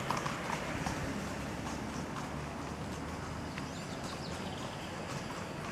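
Horses ridden by pilgrims walking on an asphalt road: steady, faint clip-clop of hooves over a continuous outdoor background.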